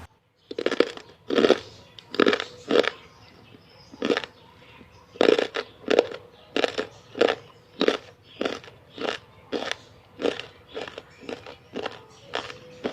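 Dry, crispy seblak crackers snapped and chewed close to the mic, a steady run of about twenty sharp crunchy bites spread evenly across the clip, with no one talking.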